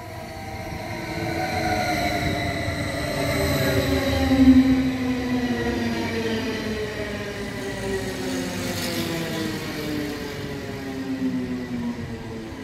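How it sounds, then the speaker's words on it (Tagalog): A train pulls into a station platform, its steady close rumble carrying a layered electric whine that glides downward in pitch as it slows, with no talking over it. "Train sa other side, nandyan na. So, padating na rin yung aking train"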